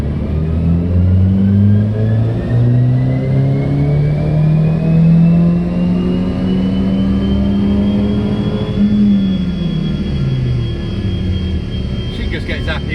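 A 20-year-old Saab's engine revs flat out in fifth gear to around 6,500 rpm, a loud, steady droning roar with a rising pitch heard from inside the car, easing off near the end.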